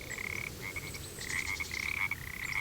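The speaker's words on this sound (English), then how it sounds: "the gentle croak of frogs intermingled with lingering threats" Frogs croak in a rhythmic, chirring chorus in a rural evening setting in the game Kingdom Come: Deliverance, over a soft low ambient hum.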